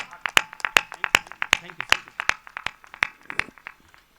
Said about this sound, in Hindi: मैडम के लिए एक बार तालियां, मेरी बहन के लिए एक बार तालियां